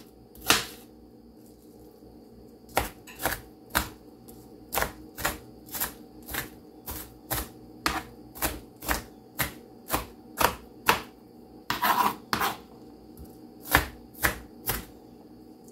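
Sharp knife chopping onions on a cutting board into a decent-sized dice, a series of crisp, evenly spaced chops with brief pauses, close and clear with no talking.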